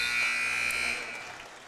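A basketball game's horn sounds to end the first half of a Lady Dukes vs Salem Quakers game. The steady, piercing buzz holds for about a second over gym crowd noise, then cuts off as the room settles.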